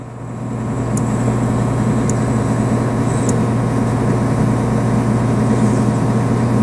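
A heavy engine idles steadily while a reverser pressurizes a hydraulic line to fill a track, a constant low drone with a faint high whine and occasional brief ticks above it.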